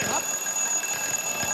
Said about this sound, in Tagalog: Palakas ang alarm ko.